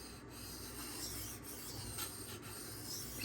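Steady close-up scraping of a Benchmade Anthem knife blade drawn across a sharpening stone, an even continuous rasp with slight rhythmic strokes and no voices.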